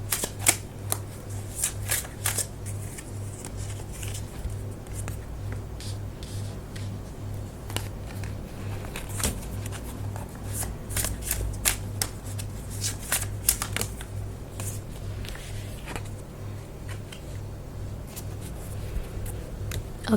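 Tarot cards shuffled continuously and close up for about twenty seconds, with steady papery riffles and sharp card snaps over a faint low hum.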